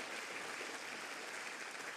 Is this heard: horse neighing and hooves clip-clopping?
no